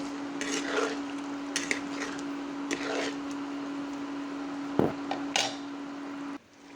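Jackfruit biryani rice being stirred in a cooking pot, with soft scraping and clinking of a utensil against the pot in irregular strokes over a steady hum, close and moderately quiet, ending with a sharper knock.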